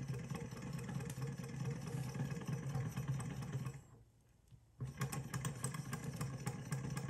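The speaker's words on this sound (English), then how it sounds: "Not a super powerful engine, but it is moving." Small Stirling hot air engine running off an external flame, giving a steady, busy mechanical whir with rapid ticking that briefly drops out and then resumes.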